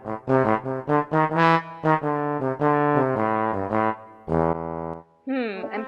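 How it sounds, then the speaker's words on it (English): A trombone plays a run of brassy, sustained notes with some sliding pitch changes, ending in a wobbly, uneven phrase, loud and close with no talking. "A trombone sounds like this."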